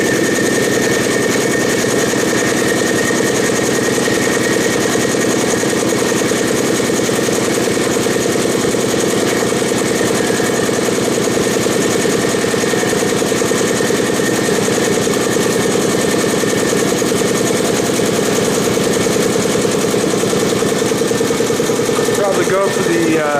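A 220-volt air compressor on a 50 amp breaker runs steadily and loudly in a barn workshop, a constant mechanical drone with rapid pumping rattle and no break throughout.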